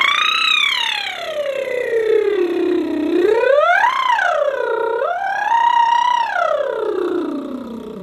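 A voice imitates a siren as a vocal warm-up, sliding from a low pitch up to high and back down in smooth swooping waves.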